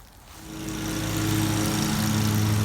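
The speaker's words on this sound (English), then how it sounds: "as I'm mowing here, I'm blowing the grass and the leaves toward the center of this area" A John Deere Z930m zero-turn mower with an advanced mulching deck chute chops up leaves and grass, its engine rising from a lower hum to a loud, steady drone close by.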